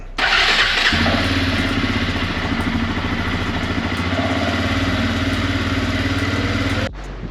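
A Suzuki Eiger QuadRunner four-wheeler cold-starts with a brief starter crank, then catches and settles into a loud, steady, clattering idle close by before cutting off abruptly.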